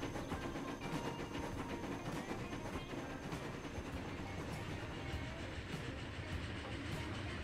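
A train rolls steadily along rails in the Transport Fever 2 video game, a soft continuous rumble with faint rhythmic clicking wheels, heard alone at low volume.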